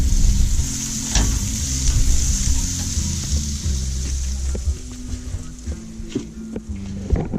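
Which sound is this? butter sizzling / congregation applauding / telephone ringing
butter sizzling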